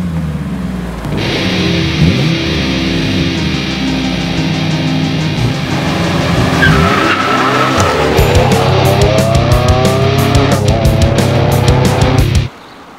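A car engine drones and revs steadily for about twelve seconds, with tires squealing briefly, then cuts off abruptly.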